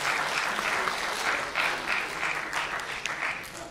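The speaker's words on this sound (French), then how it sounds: "On l'applaudit, Grégory." Convention audience at a voice-acting panel at a Toulouse game show gives warm, sustained applause, a dense even crackle of many hands from a large crowd.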